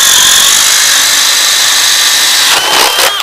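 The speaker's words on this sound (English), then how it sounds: "Next test is going to be DEWALT 20 volt with the flex volt battery on it, full charge, 1 1/4 hole." A DeWalt 20V drill running on a fully charged FlexVolt battery bores a 1 1/4 inch hole, a loud, steady, high whine that holds for about three seconds before it stops abruptly.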